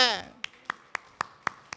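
A congregation at a church service claps hands in a steady rhythm of six sharp, evenly spaced claps, following a brief spoken voice at the start.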